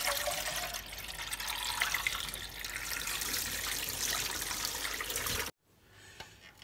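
Tap water running steadily to fill a coffee machine's reservoir, a continuous close hiss that cuts off abruptly, leaving faint room noise.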